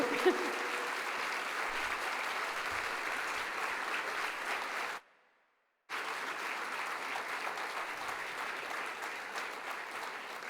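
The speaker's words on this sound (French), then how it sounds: "on peut les applaudir." Audience applause fills a formal academic opening ceremony, a dense, steady clatter of many hands. It stops completely for about a second, then resumes just as full.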